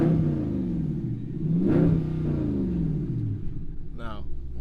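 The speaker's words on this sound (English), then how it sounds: "Let's give that thing a rev so I can show you guys what this car sounds like." 2021 Dodge Charger Scat Pack V8 idles with a deep rumble, then revs sharply once and settles back before a second short blip, close and loud with a burbling exhaust note.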